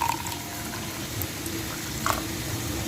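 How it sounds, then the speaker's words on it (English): Warm water poured onto active dry yeast in a small bowl, a steady soft trickling and bubbling pour that runs close and alone for a few seconds. "Then our yeast, I'll add some water."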